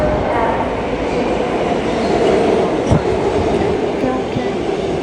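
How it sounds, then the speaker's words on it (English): Riding a New York City L subway train heading toward Manhattan, with a loud, steady rumble of wheels on rails, faint rhythmic clacks and a brief knock near the middle. "This is the Manhattan South L train."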